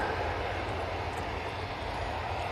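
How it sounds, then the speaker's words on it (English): A Jet2 airliner departing Manchester Airport for Dalaman roars steadily and loudly, a broad continuous engine rush that holds at full strength throughout with no voices over it. "The plane you just heard go, that was the Jet 2 to Dalaman"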